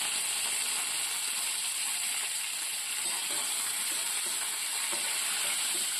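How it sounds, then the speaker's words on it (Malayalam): Mustard seeds, dried red chillies and curry leaves tempering in hot oil give a steady, dense sizzling hiss that stays close and even throughout, with no voices. "കടുക് പൊട്ടിക്കഴിയുമ്പോൾ 2 വറ്റൽമുളക് തീ ഓഫ് ചെയ്തു, കറിവേപ്പില."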